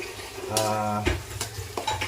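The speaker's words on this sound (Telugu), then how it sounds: "మనం బాగా కలుపుకోవాలా." Onion paste being stirred in a cooking pot for chicken curry, with continuous scraping and sizzling strokes at close range and a few sharper clinks of the spoon against the pot.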